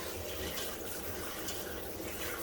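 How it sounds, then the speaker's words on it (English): Warm water runs over glass canning jars as they are rinsed, a steady, close, continuous rushing splash with no talking. "So I'm just going to use cold water or warm water, not too cold, and just give these a good rinse."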